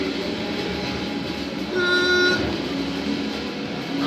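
A train rumbles past in Forza Horizon 4 near railway tracks in Britain, a steady broad clatter with a brief horn-like tone rising midway, loud and continuous throughout.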